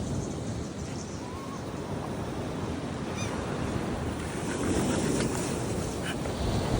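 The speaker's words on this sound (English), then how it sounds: "Are you running from the waves?" Ocean surf rolls onto a beach at St. George Island, Florida, a steady wash of breaking waves mixed with heavy wind buffeting the microphone, swelling louder toward the end.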